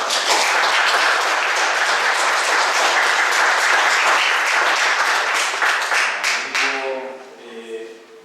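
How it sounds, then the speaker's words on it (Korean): A church congregation breaks into sustained applause to welcome a young member at a Sunday worship service, loud and dense clapping that fades out near the end as a voice begins speaking. "박수로 환영하겠습니다"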